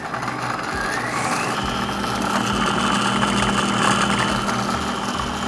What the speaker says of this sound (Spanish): Encendemos la Moulinex Companion y ponemos velocidad 12 durante 2 minutos.